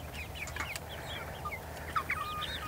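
Chickens and roosters on a farm in the morning cluck and chatter softly in short, scattered calls, with a few higher squawks, against a quiet background.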